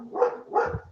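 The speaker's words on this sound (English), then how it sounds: "Now we hear the dogs." Dogs barking in a video-call interview setting: two distinct barks about a third of a second apart, moderately loud and fairly close, with no talk over them.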